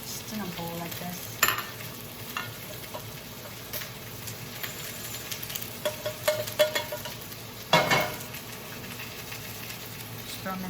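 Food being stirred in a frying pan over a steady low sizzle, with scattered scraping and tapping of the utensil and two sharper knocks against the pan.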